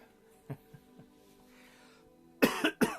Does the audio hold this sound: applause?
no